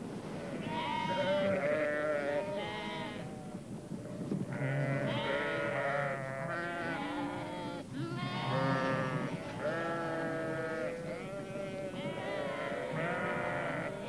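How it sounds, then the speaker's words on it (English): A flock of sheep on a farm bleats loudly and almost continuously, overlapping calls of several animals rising and falling close by, with no talking. "The sheep soon notice the food."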